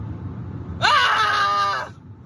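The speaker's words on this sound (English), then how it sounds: "I want to scream." A man screams in frustration, a single loud, sustained wavering cry lasting about a second, rising sharply out of a quiet background and cutting off abruptly.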